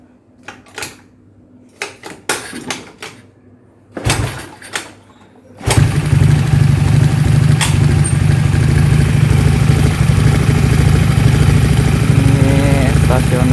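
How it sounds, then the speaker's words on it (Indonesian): A Honda Spacy bore-up motorcycle engine with a tuned PWK carburetor is kick-started after a few clunks and knocks, then settles into a loud, steady, even idle close by while someone talks over it. "Ini stasionernya dapat, udah enak, udah ketemu settingannya, ini nggak berebet."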